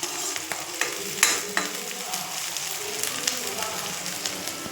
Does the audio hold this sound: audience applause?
no